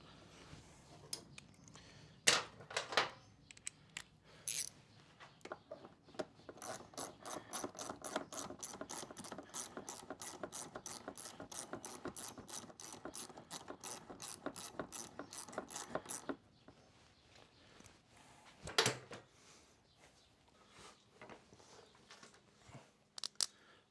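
A ratchet tightens the screw holding the top of the fuel tank on a Honda CRF250 motorcycle, giving a long run of rapid, even, close clicks, with a few scattered clicks before and after.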